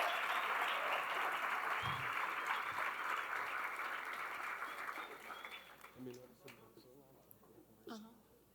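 An audience claps in steady, dense applause for several seconds before it tapers off, with voices and a few scattered claps as it dies down.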